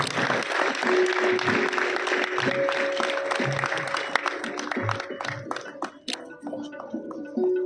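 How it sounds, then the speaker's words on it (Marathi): An audience applauds at a Marathi theatre lifetime achievement award ceremony, a sustained wash of clapping that thins toward the end, with a voice and a sustained tone heard alongside. "अण्णांसाठी सुद्धा एकदा जोरदार टाळ्या झाल्या पाहिजेत"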